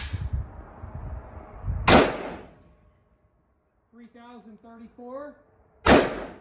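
A rifle fires dented Winchester .223 Rem rounds in two sharp, loud single gunshots several seconds apart. Someone speaks briefly between the shots.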